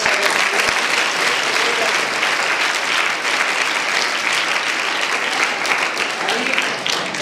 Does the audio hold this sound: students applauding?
yes